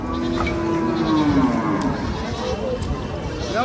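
A goat at a livestock market where animals are viewed before Qurbani gives a drawn-out, falling bleat near the start, close by, amid outdoor crowd noise and people talking.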